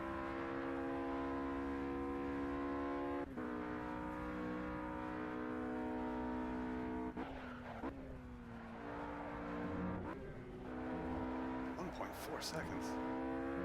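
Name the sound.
GT3 race cars racing at Watkins Glen, video game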